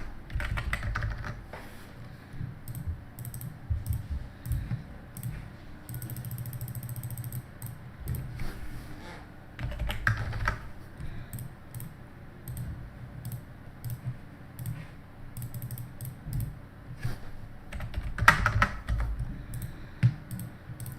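Computer keyboard typing during PC game play, a steady run of rapid close clicks and clacks in bursts across the whole stretch, with a faint low background hum and no talking.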